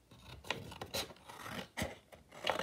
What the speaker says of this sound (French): Il faut juste une paire de ciseaux, des cartons